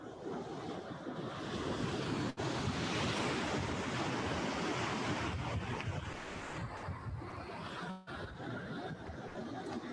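Ocean waves wash onto a beach in a continuous, loud roar of surf, mixed with gusty wind buffeting the microphone, with brief dips in the noise and no voices.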